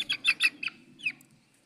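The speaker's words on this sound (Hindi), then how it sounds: "ये मुर्गा मुझे बहुत अच्छा लगा है।" A large rooster in a cage at a backyard poultry setup gives a few short, close chirpy calls in a quick burst followed by one more call, over a faint low background hum.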